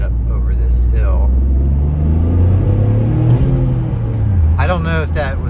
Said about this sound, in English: you can hear the turbo spool up, and you can definitely hear the blow-off valve